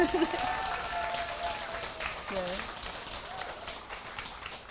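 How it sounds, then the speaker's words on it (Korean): An audience at a talk applauds with a soft, fairly sparse clapping that runs throughout, under a voice speaking over it and some faint tonal sounds. "지금 박수를 보내주신 여러분"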